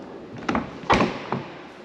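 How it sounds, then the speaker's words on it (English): Large storage door on a 2023 Grand Design Solitude 380FL fifth wheel being opened, giving three short clunks and thumps over about two seconds, close and fairly loud with no voices. "Really big door. We got the nice magnets to hold it up again."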